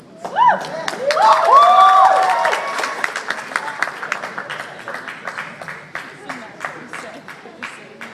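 Audience at a speaker's Ancient Aliens talk in Durham, New Hampshire, bursts into applause and cheering that swells then tapers into scattered claps, with a voice and whoops over it.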